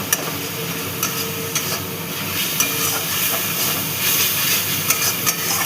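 A spoon scrapes and stirs through rohu fish curry with kasuri methi in a pan, a steady close scraping and soft sizzle with small regular clinks, no voices.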